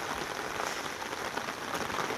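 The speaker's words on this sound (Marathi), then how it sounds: "आज बघा सकाळ सकाळ पाऊस चालू झाला बघा पाणी किती साचलं आहे" Steady, dense hiss of rain pouring down, constant and enveloping with no pauses or voices.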